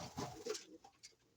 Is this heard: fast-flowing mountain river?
no